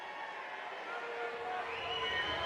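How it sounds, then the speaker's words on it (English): Arena crowd at a minor-league hockey game between the Newfoundland Growlers and Reading Royals, a steady broadband roar of many voices heard from high up in the stands, swelling slightly toward the end. "we can really hear the crowd up here"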